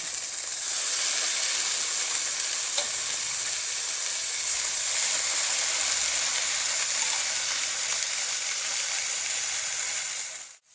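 Cabbage rolls sear in a little sunflower oil in a very hot pan, giving a loud, even, continuous sizzle and hiss that holds steady before cutting off abruptly at the end.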